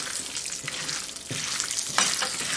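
Turmeric and peanut butter are stirred in a hot frying pan for lemon rice, a steady sizzle with scraping spoon strokes and brighter crackles when the pan is disturbed.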